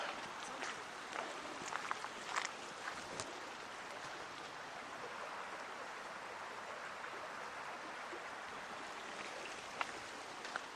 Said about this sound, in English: You can probably hear the water running by now.